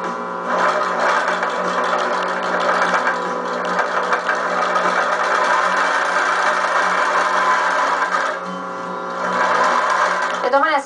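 A sewing machine stitches quilt batting in a fast, continuous mechanical whir, close and steady, pausing briefly twice, with a voice audible at times.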